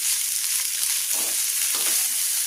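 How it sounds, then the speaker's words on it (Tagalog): Cooked rice for sinangag with dried alamang shrimp and onion sautéed in a pan, a loud, steady hiss of frying with two soft scraping stirs, close by and with no speech. "Kaya gisa lang natin yung kanin."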